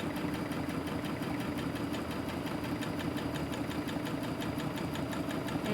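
A sewing machine runs free motion quilting at a slow, steady pace, its motor humming continuously with a fine rapid stitching rhythm, close and moderately loud with no talking.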